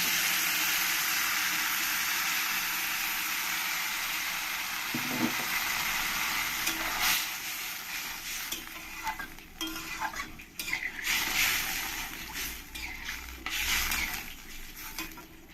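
Water hits a pan of fried bitter gourd and eggplant for sukto, setting off a quiet hiss that breaks into irregular sizzling bursts alongside stirring and utensil clinks, with no one talking.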